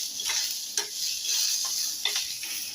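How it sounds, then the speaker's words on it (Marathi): Ground masala paste for misal sautéed in oil, with a soft continuous sizzle and a few crisp spatula scrapes against the pan, close and unaccompanied by talk. "हे वाटप आपल्याला एकदम तेल सुटेपर्यंत परतून घ्यायचं"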